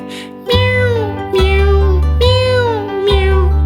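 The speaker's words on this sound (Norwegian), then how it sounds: "Tre katter små, så redde så de mjauet lavt i kor" Kittens meow in a Norwegian children's song, four long sung meows in a row, each loud and close over a steady musical backing.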